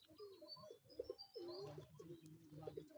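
A racing pigeon coos at close range in a series of soft, throaty rolls during a bird arrival at a training race, with no talk over it.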